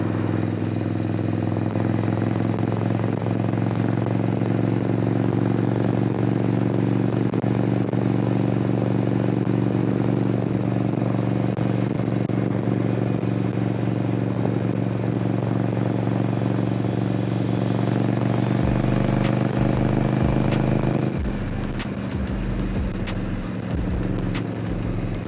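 A 1979-style cruiser is not involved; an Indian Scout motorcycle rides along with a loud, steady engine drone and wind rush, then the throttle rolls off and the rhythmic engine pulses become audible near the end.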